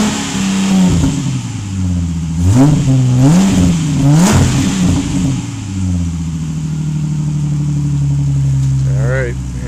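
A 2005 Ford Mustang V6 with a broken rear differential drives along, engine droning and rising and falling through several revs, with a wavering whine and tonal groan over a steady loud rumble.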